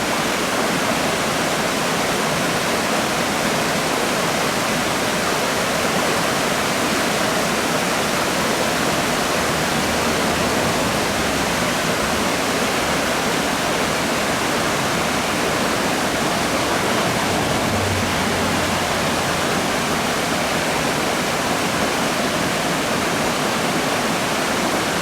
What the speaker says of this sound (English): it's just a pretty little waterfall you can see right off the side of the road